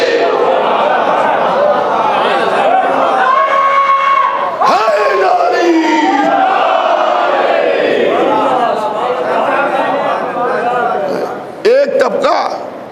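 A crowd at a Muharram majlis at Zainabia Imambada in Mumbai chants religious slogans in unison, loud and close, with swelling and falling voices and a brief pause before a final burst.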